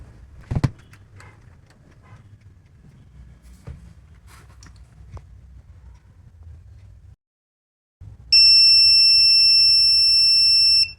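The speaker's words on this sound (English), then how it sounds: "the buzzer was responsive indeed" After a few faint clicks and a brief silence, a steady high-pitched electronic buzzer on a helmet safety system sounds continuously for about three seconds.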